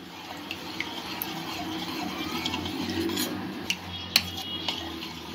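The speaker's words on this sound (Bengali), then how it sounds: "কর্নফ্লাওয়ার দিয়ে ভালো করে মিক্স করে নেব। ভালো করে গুলে নিতে হবে যাতে কোনো লাম্প না থাকে।" Cornflour being stirred into milk with a spoon in a bowl, heard as a soft swishing swirl punctuated by a few sharp clinks of metal against the dish near the end.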